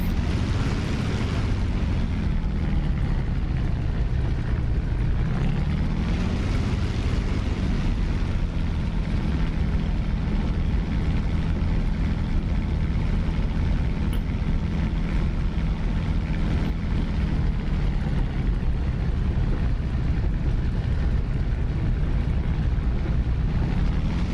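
A P-51 Mustang piston engine drones loud and steady through a takeoff roll in the DCS flight simulator, with a low rumble and a slowly shifting pitch throughout; no speech.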